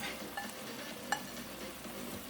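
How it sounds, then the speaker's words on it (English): Onions and scallions hit a hot pot for a vegan coconut stew, giving a steady, moderate sizzle with a few faint clinks of a utensil, no one speaking. "So now I'm going to add my onions and some of the scallion"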